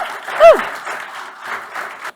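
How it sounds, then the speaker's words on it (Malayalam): Audience applause at a stage event breaks out in a short burst of clapping that swells and then thins, with a brief whistle-like sound near the start. "മോൾക്കൊരു വലിയ കൈയടി നൽകുന്നു"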